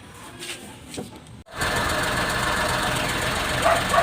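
A small Suzuki F6A multicab engine idles steadily up close, a rough, rattling hum that kicks in after a brief dip and keeps running evenly.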